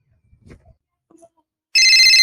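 After a couple of quiet rustles, a loud electronic phone ringtone suddenly starts and rings on steadily.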